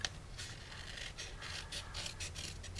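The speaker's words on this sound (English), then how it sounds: "And then we're going to cut off these flaps." Scissors snip flaps off Fresh Florals patterned paper for a small angled purse craft, making a quiet, rhythmic series of crisp cuts close by.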